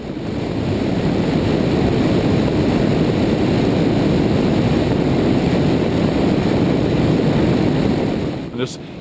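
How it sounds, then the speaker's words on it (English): A vintage Curtiss OX-5 aircraft engine on a Curtiss Robin runs steadily and loudly, a rough continuous drone that stays constant before briefly dropping off near the end. "This is an OX5 engine"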